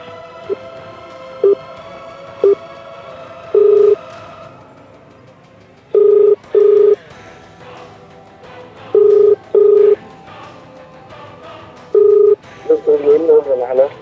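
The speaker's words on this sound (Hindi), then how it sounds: "पहले फ़ोन करते हैं, मोबाइल में फ़ोन करते हैं।" A mobile phone call is dialed and rings, with a series of short, loud electronic tone beeps spaced irregularly over a faint background, ending in a quick warbling burst, and no clear talking over it.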